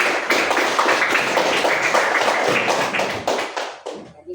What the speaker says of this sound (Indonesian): Ayo, berikan aplaus.